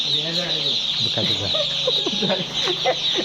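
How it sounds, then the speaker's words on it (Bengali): Chickens on a poultry farm cluck and chatter in overlapping calls over a steady high hum, with faint speech-like sounds mixed in. "ফাইনালি সব মুরগিগুলো চলে এসেছে"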